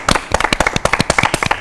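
A group of children at a children's TV show claps for two guests, a quick, steady run of sharp, close handclaps that continues without pause.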